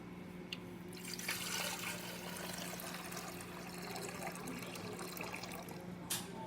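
Water drains out of the tank of a DeLonghi PrimaDonna Exclusive espresso machine, a soft, continuous trickling and splashing heard close up for several seconds, with a faint steady hum underneath.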